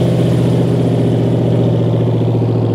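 A car engine runs loud and close at a car meet, a steady throbbing roar that holds without letup for the whole stretch and carries no voices.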